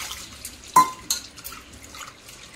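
Toor and moong dal being washed in water in a kitchen vessel: a few soft splashes and clinks, one sharper knock of a pot or spoon, over a quiet background.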